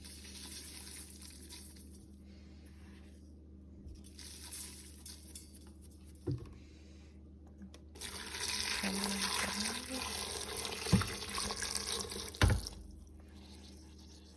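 Hot water is poured over fava beans in an Instant Pot, heard as a quiet intermittent splash and trickle that grows fuller in the second half, with a few sharp knocks in a quiet kitchen.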